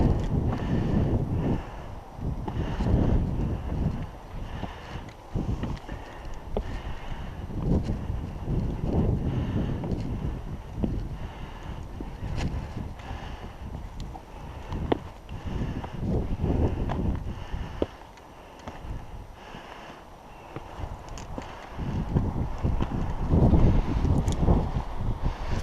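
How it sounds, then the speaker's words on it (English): Steady wind buffeting a head-mounted GoPro microphone on a beach by the ocean, a continuous loud low rumble with gusty surges throughout and no speech. "Hopefully that wind isn't too annoying on the audio."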